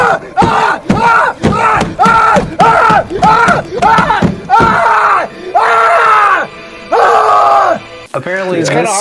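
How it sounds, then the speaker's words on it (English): A man screams and yells repeatedly in loud, harsh bursts inside a car, one after another in a close, confined space, while punching the ceiling. "screaming inside of the car punching the ceiling"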